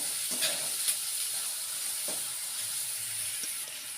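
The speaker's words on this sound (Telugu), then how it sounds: "ఉల్లిగడ్డ వేసుకుంటున్నా, కరివేపాకు కూడా వేస్తున్నా." Onions and curry leaves fry in a pan, giving a soft, steady sizzle with a hissing edge and a few faint stirring scrapes, quiet and continuous with no talk.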